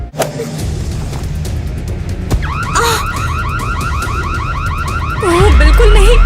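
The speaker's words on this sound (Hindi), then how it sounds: "अलार्म बच गया, अब हम पकड़े जाएंगे।" A loud electronic alarm blares with rapid, repeating warbling whoops, continuing steadily after a bang and rising louder near the end.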